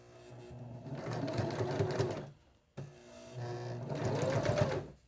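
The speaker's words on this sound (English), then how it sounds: "you can give it a gentle pull, and that'll help it feed through the machine" A domestic sewing machine runs in two close, loud bursts of steady rapid stitching, top stitching around the edge of a small fabric glasses case, with a brief pause between runs.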